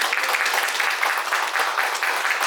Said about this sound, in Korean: 나올 때는 박수 크게 부탁드리겠습니다.